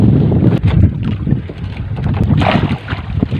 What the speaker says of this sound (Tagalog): Ito medyo lumalakas yung hangin